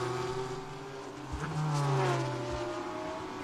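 Race cars in the IGT endurance race at Virginia International Raceway roar at speed. Several engines drone and shift pitch as they pass, and one car's note rises sharply mid-clip over the constant high-speed track noise.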